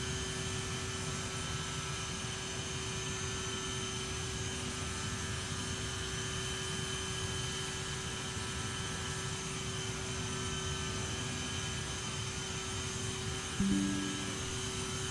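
Aerosoft CRJ900 jet engines in a flight simulator, a continuous steady cockpit drone with a constant tonal hum and broadband rush, unchanging throughout, with a small click near the end.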